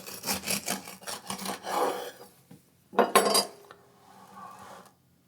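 A knife rasps and scrapes through a crusty loaf of Irish soda bread with caraway seed, in several close rough strokes, then a short pause and one more burst of cutting.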